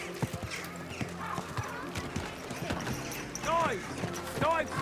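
Horse hooves clip-clop at a steady walking rhythm in the medieval video game Kingdom Come Deliverance II, close and clear, while voices speak over the steps.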